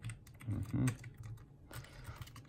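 Keys clack on a homemade mechanical keyboard, a quick burst of presses followed by a few scattered, fainter taps close to the microphone.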